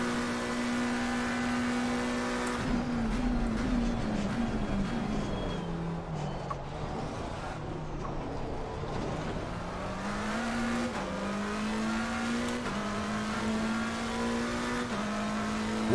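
A race car engine in Assetto Corsa Competizione at Monza screams through upshifts and downshifts, its pitch climbing, dropping under braking and rising again, loud and steady throughout with no talk.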